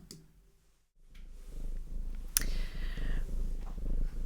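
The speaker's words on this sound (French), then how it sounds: "Je vais vous mettre le petit chat qui ronronne, parce que je l'aime bien." A small cat purring up close, a soft, rhythmic rumble that starts after a short quiet gap and keeps going steadily, with a brief click partway through.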